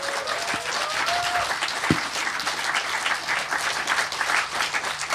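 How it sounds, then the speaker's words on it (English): Warm audience applause for the organizers at a lightning talks session of EMF Camp, continuous moderately distant clapping from a crowd throughout, with a brief voice near the start. "how about a warm round of applause for the EMF camp organizers?"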